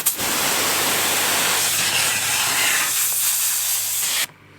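A loud, steady 4000 PSI pressure washer spray with a 48-degree tip hisses close up against cardboard for about four seconds, then cuts off abruptly.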